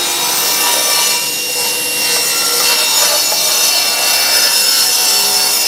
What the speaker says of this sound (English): Dust extractor on, blade on, let's go.